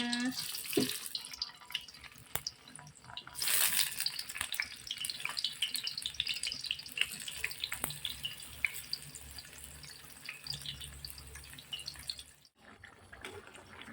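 Tempeh fries in a pan for a home-cooked vegetable lodeh. A soft, continuous sizzling hiss runs throughout at low volume, with scattered pops and a few clatters of a utensil.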